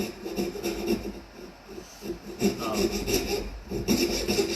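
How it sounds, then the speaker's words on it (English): A turning saw cuts out the waste wood between dovetails. The close, rhythmic rasping strokes of the blade in the wood repeat steadily, with no voice. "I'm going to use this turning saw to cut that out"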